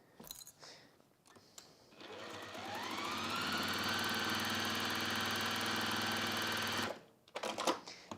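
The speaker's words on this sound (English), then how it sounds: "And we are going to stitch down that side." A sewing machine stitching down the side of a fabric handbag runs in one continuous, loud, close burst for about five seconds, with quieter handling noises before and after.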